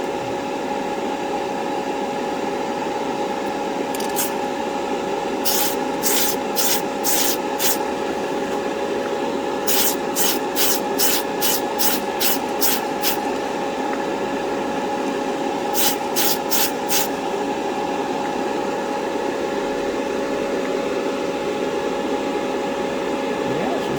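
Airbrush spraying extremely thin paint coats onto an AMT 1968 Corvair model car body: a steady hiss runs throughout, with several short bursts of repeated rapid spray pulses, close and fairly quiet.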